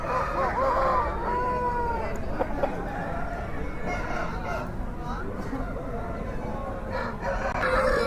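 Native chickens crow and cluck at a busy poultry market, with roosters calling repeatedly over dense crowd chatter and market noise.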